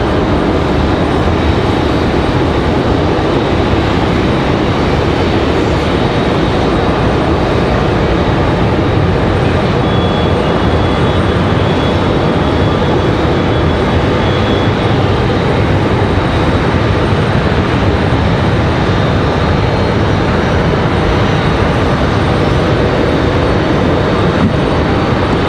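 A Boeing 737-900 jet rolling down the runway on takeoff at Raleigh-Durham International, a loud, sustained, broadband engine roar that holds steady throughout with a faint high whine on top.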